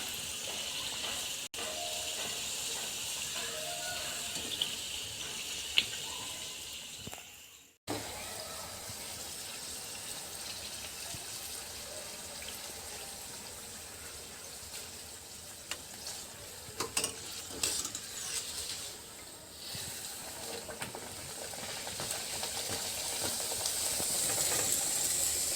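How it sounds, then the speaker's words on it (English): Biscuit roti kachori, a stuffed snack, frying in hot oil until golden brown, giving a steady close sizzle and hiss with light stirring clatter, one brief dropout partway through, and a faint voice now and then. "Just fry them until it is golden brown."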